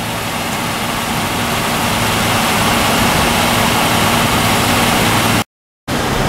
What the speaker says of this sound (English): Let's hear that engine purring along for a second here.